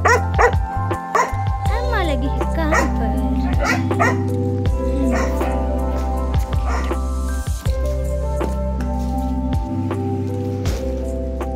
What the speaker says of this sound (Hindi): सड़क पे कुत्ता जा रहा है, उसको देख के भाग रहा है